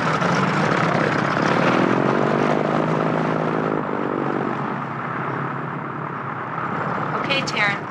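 A Cessna cargo plane's propeller engine runs loud and steady at close range on an airport apron, a continuous droning roar that eases slightly toward the end, with people talking over it.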